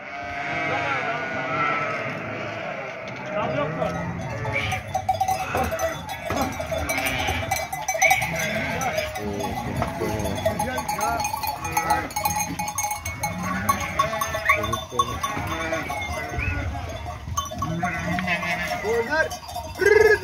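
A flock of breeding sheep and lambs bleats continuously, many overlapping calls near and far with clanking bells and hoof sounds, while people talk throughout.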